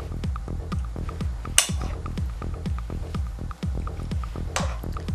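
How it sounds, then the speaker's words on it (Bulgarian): A small spoon scrapes and taps against a bowl while bean stuffing is packed into dried peppers, giving a steady run of close, soft clinks and wet squishes with a couple of sharper knocks. "С малка лъжичка слагаме от пълнежа."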